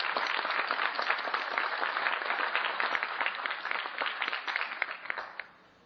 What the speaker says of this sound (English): I want you to join me in giving him a round of applause.